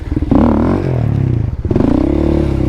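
A quad ATV engine revs hard and steadily, rising and falling in pitch while the rider holds the machine up on its rear wheels in a wheelie.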